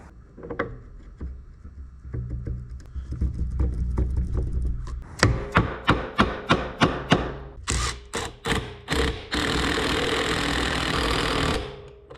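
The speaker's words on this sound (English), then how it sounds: "I'm going to take my belt, turn it inside out, and just do a quick, light scuff" A sanding belt turned inside out lightly scuffs the axle seal surface on a 1957 Gard'n Mast'r tractor: a quick series of close, rhythmic rasping strokes, then a steadier continuous scrub before it stops.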